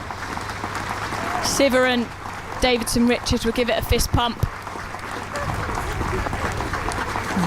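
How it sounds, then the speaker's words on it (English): Cricket crowd at Taunton during a women's Test match, England against South Africa, applauding a 300-run milestone: a steady wash of clapping throughout, with a commentator talking over it in the middle. "this Taunton crowd applauds, getting behind these two"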